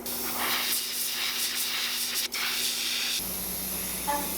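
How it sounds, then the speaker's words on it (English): An airbrush sprays gold paint onto a fishing lure in short bursts, a loud close hiss held for about three seconds, then cut to a softer, thinner hiss with a faint trailing burst near the end. "So I'm going tiny sections at a time and hitting those sections with the overspray"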